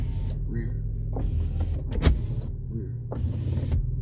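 Rear power window motor of a 2005 Chevrolet Impala running in the cabin, a close whirring hum lasting several seconds with a brief knock midway, over low engine rumble and some faint voice.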